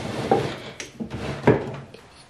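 A drawer holding round eyeshadow palettes opens and shuts, giving a few soft wooden knocks and rattles close by with no talking.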